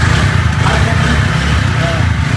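A motorcycle engine runs steadily close by, a continuous low rumble with no clear start-up or revving, while people talk over it.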